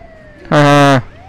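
Ambulance siren in the GTA V video game, one short loud electronic whoop or yelp burst, close and alone, set against a quiet background.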